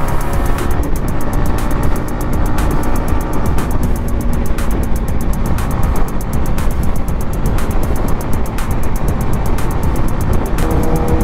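Yamaha XSR 155 motorcycle engine running continuously on a test ride, loud steady drone with wind rush and faint regular ticking throughout.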